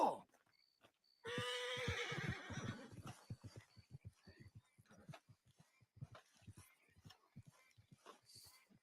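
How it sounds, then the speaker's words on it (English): A horse in a video game lets out a loud whinny, followed by a rapid run of hoof clip-clops that patter on and gradually thin out. "Good horse."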